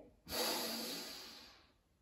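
A deep inhalation in a hatha yoga breathing exercise: one long, breathy draw of air that starts abruptly, swells, then fades gradually over about a second and a half, close and quiet.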